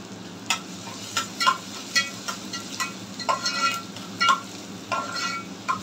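Chopped ginger and garlic frying in oil in a pan for street-style Schezwan fried rice, a constant close sizzle broken by repeated clinks and scrapes of a spatula being stirred.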